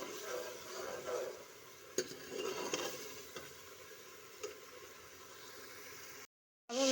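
Ghee stirred and roasted in a pan for chana dal with bottle gourd, a faint soft sizzle with quiet scraping stirs and a few light clinks, ending in a brief silence.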